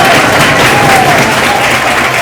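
An audience applauds a contestant selected for a reality TV show season, a loud, steady wash of clapping that carries evenly from start to finish.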